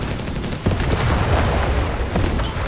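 Rapid gunfire and booming blasts from a Company of Heroes 3 2v2 match, with dense overlapping shots rolling continuously and loudly throughout, a heavier thump breaking in early.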